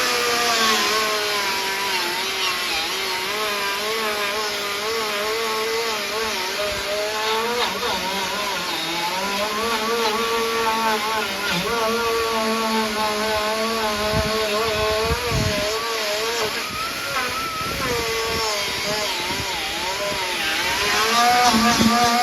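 An angle grinder cleans up the metal edge of a patch panel on a 1964 Impala convertible, a loud continuous whine that rises and falls in pitch as pressure shifts, close and sustained.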